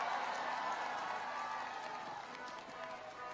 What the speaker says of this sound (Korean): 뜨거운 박수와 환호를 보내주시기 바랍니다